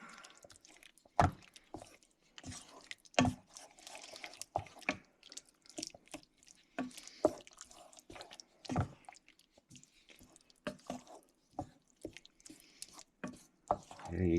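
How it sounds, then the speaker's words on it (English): Rotel beef is stirred and broken up in a skillet, giving a scattered run of soft, wet clicks, squelches and taps at low level. "you want to get a good stir. Break it all in there. You know, mix it all up."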